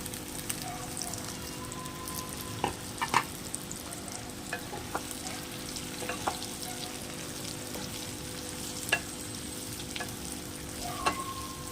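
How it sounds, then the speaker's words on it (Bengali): Okra pieces frying in hot mustard oil for achari dahi bhindi crackle in a dense, continuous sizzle, with scattered sharp pops and a few spatula clicks over roughly twelve seconds, close and fairly loud. "এবার এতে আমি অল্প অল্প করে ঢ্যাঁড়স ছাড়বো আর ভেজে নেব।"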